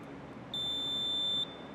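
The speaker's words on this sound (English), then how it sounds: "Unagi included a horn with the Model One, but it's this annoying beep." An Unagi Model One electric scooter horn gives a single sustained electronic beep lasting about a second, close and clear against quiet background hiss.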